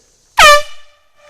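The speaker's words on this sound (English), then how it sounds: "Air horns, another noise-making device." A single short, loud, piercing air horn blast from a handheld noise-making safety device, sharp onset and quick decay with a faint tail, heard alone.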